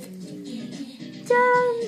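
A cat gives one loud, clear meow in the second half, heard close. Softer low murmuring comes before it.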